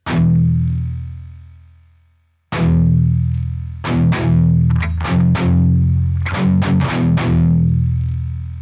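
Chugging palm-muted electric guitar, heavily distorted and gated, through the Neural DSP Archetype Rabea plugin, with a held chord that fades out, then a series of tight, punchy muted hits in a rhythmic pattern.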